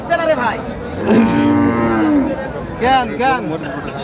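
A dairy cow at the weekly Choubari cattle market in Naogaon lows in a long loud moo, with shorter calls following, over faint crowd chatter and nearby voices.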